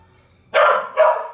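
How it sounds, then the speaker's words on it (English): A dog riled up by excited children indoors lets out two loud, sharp barks close by, one right after the other, following a moment of near quiet. "My kids are going crazy, which is making the dog go crazy."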